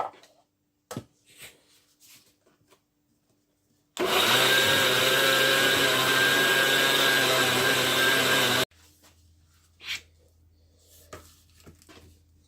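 A mixer grinder grinds roasted sesame seeds with sugar, a loud, steady whine lasting about five seconds and then stopping abruptly, with quiet handling clatter before and after.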